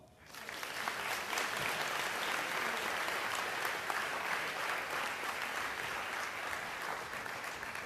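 An audience at the final of an eloquence contest applauds steadily, a dense, even wash of clapping that swells within the first second and holds at a fairly loud level to the end.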